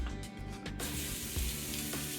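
Sausage begins cooking in a hot pan: a few short clatters and bumps give way to a continuous, fairly loud sizzle with low rumbling underneath, no voices present.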